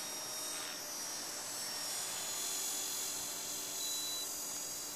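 An EXI450 flybarless RC helicopter flies at low head speed, its rotor and motor giving a continuous steady whine and buzz, fairly faint and even throughout.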